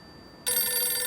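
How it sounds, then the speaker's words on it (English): A telephone bell starts ringing suddenly after a quiet half-second and keeps up a loud, steady, bright ring to the end. "Phone's ringing, Kylie."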